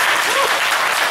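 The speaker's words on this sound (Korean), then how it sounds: "박수 쳐주시기 바랍니다." A brief burst of audience applause at a Bareun Party leadership candidate debate in 2017, a steady wash of many hands clapping close by with a voice faintly underneath.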